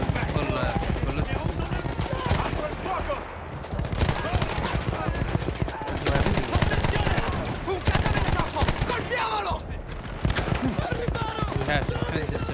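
Rapid, continuous gunfire from a fully loaded weapon in Battlefield 1 rattles almost without pause, heavy and close, with a few brief gaps and voices mixed in.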